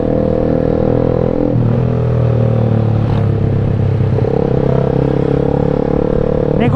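A motorcycle speeds along, recorded on a helmet-mounted action camera, its engine droning loud and steady under rushing wind with shifting pitch as it holds speed.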